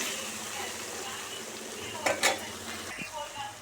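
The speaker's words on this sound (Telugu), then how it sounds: "ఇలా ఆయిల్ పైకి వచ్చేంత వరకు ఫ్రై చేసుకోవాలి" Fish curry masala with turmeric fries in oil in a pan, a continuous bright sizzle with a brief clatter of stirring utensil against metal partway through, and no voices.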